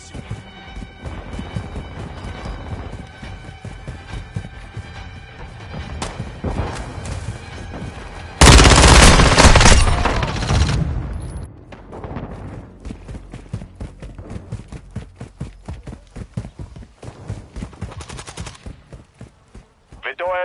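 Rapid gunfire from Call of Duty MW2 multiplayer rattles in repeated bursts, with one loud, dense volley in the middle, as a player talks over the shooting.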